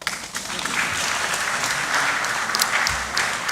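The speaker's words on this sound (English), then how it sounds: "The women can clap to that" Dense, steady applause from a conference audience fills the hall at the Annual New Year School and Conference 2025, where women clap in support during a speech. The clapping stays loud and continuous throughout.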